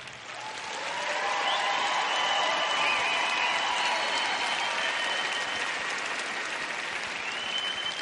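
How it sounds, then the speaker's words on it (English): Sustained audience applause in a Prague concert hall after figure skater Evgeni Plushenko's performance, a dense, steady roar of many hands swelling in the first second and holding loud throughout, with faint cheering mixed in. "Thank you very much for your applause."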